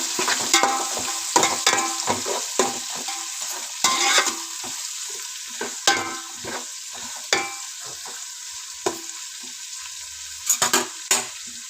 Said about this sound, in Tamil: வெங்காயம் இப்போ நல்லா வதங்கிக்கிட்டு இருக்குது.